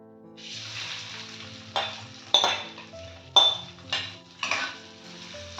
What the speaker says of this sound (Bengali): গরম মশলা থেকে গন্ধ বেরিয়ে এসেছে, এবার আমি চালটা দিয়ে দিচ্ছি।